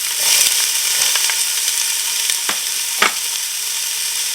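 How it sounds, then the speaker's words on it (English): Chopped onion and carrots dropped into heated oil for a Tuscan vegetable soup, giving a bright, close, steady sizzle with a few sharp clicks of a utensil against the pot. "The oil is heated up, so now I'm adding my onion, my carrots"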